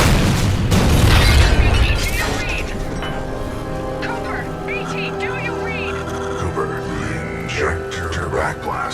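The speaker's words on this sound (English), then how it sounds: "We fired everything at the fold weapon." Heavy weapons fire and booming explosions from Titanfall 2, loud and dense at the start, then settling into a rumbling, crackling wash of blasts and debris with voices and game sounds layered over it.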